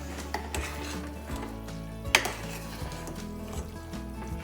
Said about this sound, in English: And we'll give that a good stir.